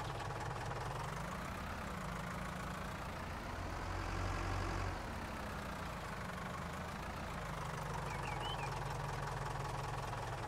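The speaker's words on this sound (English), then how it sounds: "let's go grab this tractor and get it out of the way" A tractor engine in the Farming Simulator 19 video game runs steadily at a rough, knocking idle, a continuous low drone that swells briefly in the middle.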